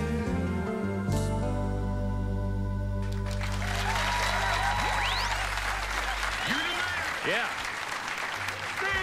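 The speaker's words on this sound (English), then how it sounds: "The applause, the people are standing in the back there." Loud audience applause at a 1996 television performance in Australia, dense continuous clapping that swells in after music ends and carries on steadily, with a brief spoken word over it.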